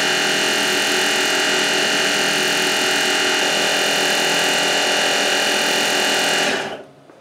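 A Tormach 8L lathe spins a long bar at 2,500 RPM, held on a roller bearing assembly. It gives a loud, steady whine with a dense buzzing hum that holds evenly, then cuts off abruptly near the end.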